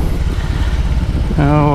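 A BMW R18 First Edition motorcycle engine runs steadily at low revs during a turn, a deep rumbling idle that rises into a clearer harmonic drone near the end, with a voice talking over it.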